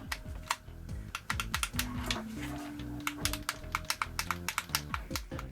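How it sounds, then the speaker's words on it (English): The Z button on a DACCKIT GameCube-style controller is pressed over and over, producing a rapid series of crisp, close plastic clicks. "here's a look at that Z button, and you can hear the sound differences between the two."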